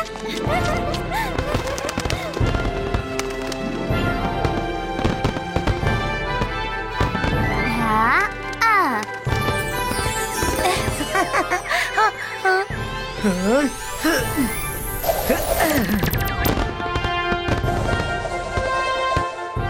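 Rapid Diwali firecracker bursts crackle continuously, loud and close, with whistling rockets rising and popping among them and faint voices in the mix.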